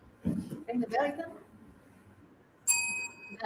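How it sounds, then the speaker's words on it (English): A small bell rings once with a bright sustained ding during a stage session, preceded by brief talk and followed by another short sound. "Ring the bell again."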